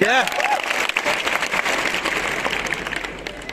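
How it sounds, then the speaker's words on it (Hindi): Audience at a large business seminar in Delhi applauds, a dense, sustained patter of many hands that slowly fades, with a voice speaking briefly at the start. "ताली नहीं बजाएंगे?"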